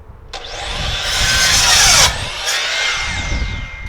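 Power saw cutting through a 2x4 wood board, a loud continuous whine that rises as the blade bites in, breaks off near the two-second mark, then resumes briefly, with no talking.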